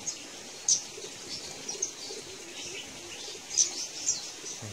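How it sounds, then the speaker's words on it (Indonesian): Gouldian finches chirping in short, bright high-pitched notes, a few scattered calls over soft background noise. "itu dia, ada emprit pelangi kawan-kawan."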